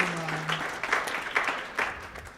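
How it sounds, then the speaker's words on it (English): An audience at a rabbinic organization's event breaks into brief applause, a moderately loud, uneven patter of clapping with a few stronger bursts, overlapping the tail of a voice at the start. "So applause."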